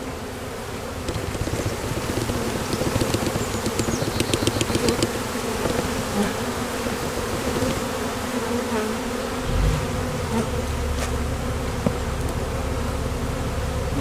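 A dense, continuous drone of many honey bees buzzing close by, steady and unbroken, with no voices.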